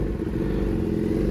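Yamaha R6 sport motorcycle engine revving on a rooftop mall parking lot in Mississauga, a loud, steady, close rumble with no break across the short span.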